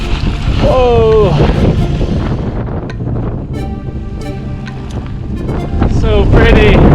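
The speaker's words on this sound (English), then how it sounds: "It's so windy" Strong wind buffets the microphone on an exposed hiking trail, a loud roaring rumble throughout, with a voice speaking and calling over it.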